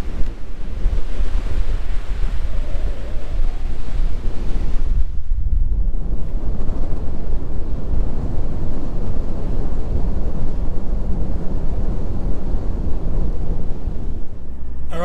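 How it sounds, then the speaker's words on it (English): Strong wind gusts across an open beach, roaring and buffeting the microphone with surf mixed in, loud and continuous apart from a brief lull, with no talk. "The wind is pretty blowy"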